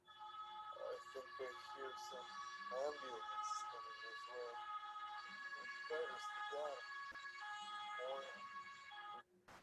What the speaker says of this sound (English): the ambulances are like very, very loud